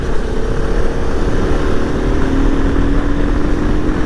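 Yamaha R15 V3 motorcycle engine running and revving steadily while riding, a continuous close drone with wind noise throughout, no speech.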